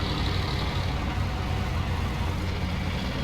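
Heavy truck engine in the SnowRunner video game, a loud, steady low rumble that drones on without pause, with no talk over it.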